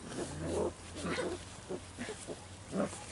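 Several short, rough growls and snarls from puppies playing, close by, coming in bursts with brief pauses between them.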